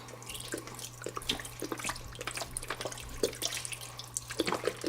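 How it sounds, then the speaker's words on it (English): Beef broth poured into a pot of simmering corned beef, a steady close splashing, trickling stream with small gurgles over a low stovetop hum, no talking. "I'm gonna put just a little bit more beef broth in there with it"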